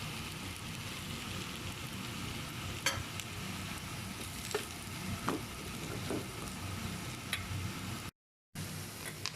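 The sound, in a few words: onions frying in a pan as chili powder and salt are stirred in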